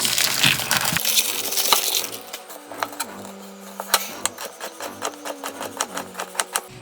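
A knife cuts open frozen meat in a home kitchen, giving a series of sharp, crunchy, rhythmic strokes close up, with soft tonal background music underneath.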